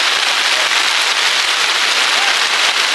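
Heavy rain pours steadily during a solo camping trip, a dense, constant hiss of drops with scattered sharper pattering hits, close and loud throughout with no voices.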